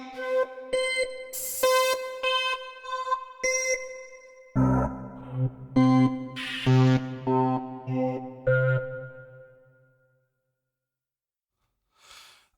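Ensoniq wave-sequenced hyperwave synth patch stepping through a chain of sampled waves ending on a bell wave, a rapid rhythmic run of shifting tonal hits that trails off into near silence with one faint late blip.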